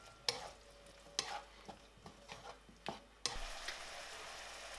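Pork sizzles as it is stirred into a thickened glaze for Vietnamese pork with rice. Quiet frying is punctuated by sharp utensil scrapes, then a louder, fuller sizzle swells near the end.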